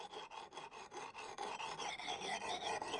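A hand file rasps along an axe blade in rhythmic back-and-forth strokes, close and fairly quiet, about a dozen scraping passes with no voices.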